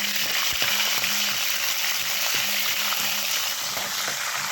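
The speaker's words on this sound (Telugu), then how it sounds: "ఇప్పుడు నేను పచ్చిమిరపకాయలు వేసుకుంటాను, తరిగిన పచ్చిమిరపకాయలు వేసుకుంటాను." Chopped green chillies go into hot oil already holding cinnamon, cardamom and cashews, setting off a steady, even sizzle of frying that stays constant throughout with faint clinks of stirring.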